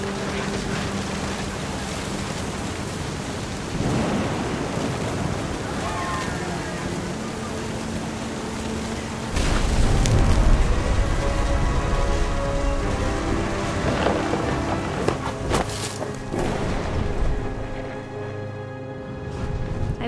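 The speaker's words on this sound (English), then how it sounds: "Thunder sounded much too close and full of angry power." Steady, loud thunderstorm rain pours throughout in What Remains of Edith Finch, with a deep rumble of thunder swelling near the middle and fading toward the end.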